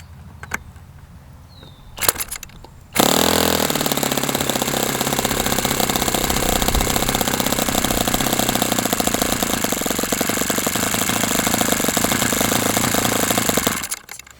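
An OS FS60 model engine fires up after a brief rustle and a few clicks, then runs loud and steady as a continuous close buzzing drone for about eleven seconds before cutting off abruptly.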